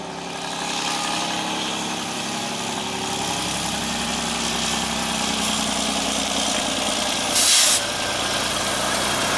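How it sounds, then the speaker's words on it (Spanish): A Freightliner truck engine drones steadily close by, a continuous low rumble with a brief hiss near the end. "Ahí viene un Freiliner, escuchá."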